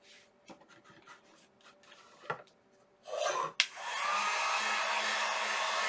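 A hair dryer blowing on wet, Mod Podged scrapbook paper on a craft board, starting after a few seconds of light rubbing and handling sounds and then running as a steady, loud, close whoosh.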